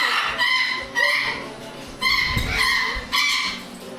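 Parrots in an aviary, including African grey parrots and cockatoos, giving loud harsh squawks and screeches in several bursts, close by with no talk.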